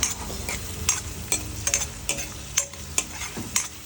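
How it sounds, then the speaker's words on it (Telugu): A ladle stirs potato methi curry back and forth in a frying pan, making a regular series of close scrapes and clicks over a soft, constant sizzle, with no talking. "వేసుకున్న తర్వాత ఒక గరిట తీసుకొని ఈయన అటు ఇటు అటు ఇటు అటు ఇటు అటు ఇటు అనాలి"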